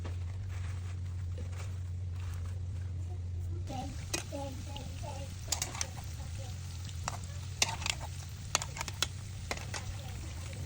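Onion and lentil fritters (piyaju) deep frying in oil: a steady bubbling hiss, then sharper clinks and scrapes as finished pieces are lifted from the side of the pan.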